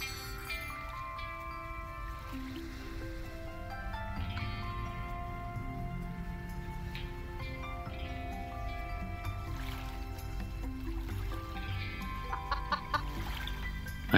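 Chickens cluck and squawk in a farming video game, a few bird calls rising over a steady bed of game music and background ambience.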